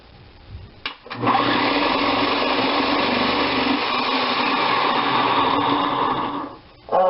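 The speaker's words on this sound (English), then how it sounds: "I love this thing. It's my veggie bullet. It just makes vegetable prep a breeze." A Veggie Bullet electric vegetable processor whirs loudly and steadily for about five seconds after a brief start-up, then spins down, with no talking.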